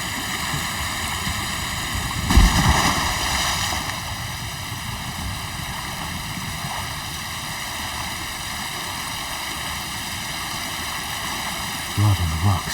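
A waterfall in Ghost of Tsushima sends out a constant rushing roar of falling water, loud and unbroken, with a brief louder splash early on and a short thump near the end.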